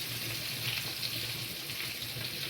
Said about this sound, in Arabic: وهوني بديت نقلي في الكعبات نتاعي